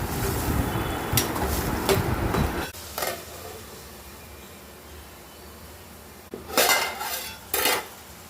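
Raw prawns stirred in hot oil in a pan, heard as clattering utensil scrapes and knocks against the pan in bursts, loud at first, then quieter, then another clatter near the end.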